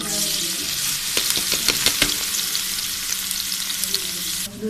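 Onion frying in ghee in a pan for chicken 65, a steady loud sizzle with brief stirring clatters through the middle, no talk.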